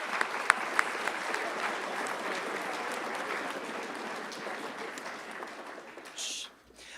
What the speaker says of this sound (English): could we just have a round of applause for outstanding administration?